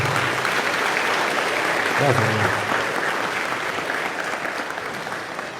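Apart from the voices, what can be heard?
church congregation applause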